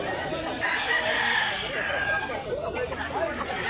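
A white rooster with yellow comb, about a year old, crows loudly at a chicken market in Consolacion, Cebu, amid background chatter and clucking from other fowl.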